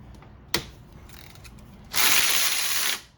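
A ratchet working bolts loose on an old Muncie 4-speed transmission: a sharp metallic click, then a brief burst of fast ratcheting buzz, close and clear.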